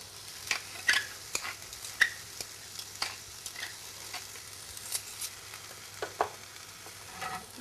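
Pine nuts stirred in a frying pan while cooking vegetarian couscous: soft scraping and light rattling strokes come in irregular bursts over a low, quiet sizzle, close and fairly faint.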